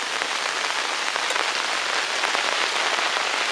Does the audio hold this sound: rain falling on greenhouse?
yes